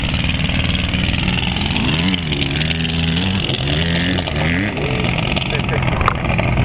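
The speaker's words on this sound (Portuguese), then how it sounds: "Eu acho que saiu do ponto o motor, Dodô" An engine with its ignition timing off runs loudly and roughly, its pitch rising and falling as it is revved unevenly, while people talk over it.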